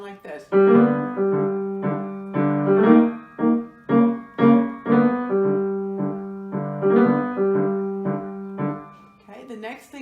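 A piano lesson phrase from "Shoo-Fly," played as a right-side-up triangle shape: a short run of clear, sustained notes rising and falling in a steady rhythm, close and moderately loud, with no talking over it.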